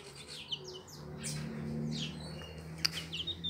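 Newly hatched chicks sired by a feisty rooster, kept warm in a box under a lamp, chirp in a steady run of high, thin peeps close by, with a louder tweet near the end and no talking.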